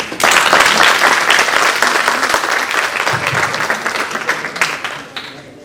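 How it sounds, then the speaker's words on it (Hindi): An audience claps loudly at a college youth parliament session, a thick burst of applause that holds steady, then thins into scattered claps and fades away. "पीछे ताली पीटते रहो"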